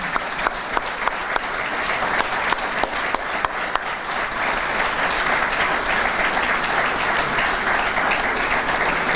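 An audience applauds city employees at a state of the city address, with a full, sustained round of clapping that stays strong and even throughout, a few sharper claps standing out early on.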